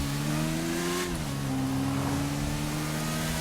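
Engine of a red motorbike in GTA 5, a steady tonal hum that dips slightly in pitch partway through, then holds as an even, continuous drone with no talking.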